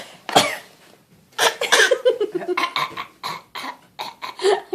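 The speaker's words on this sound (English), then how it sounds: "I cannot believe you copy a cough." A child gives a deliberate fake cough, one sharp burst followed by a run of repeated, uneven coughing sounds close to the listener.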